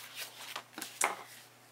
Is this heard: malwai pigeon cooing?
no